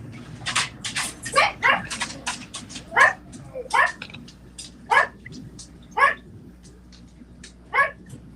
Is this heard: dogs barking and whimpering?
yes